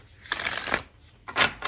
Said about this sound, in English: I can shuffle on camera.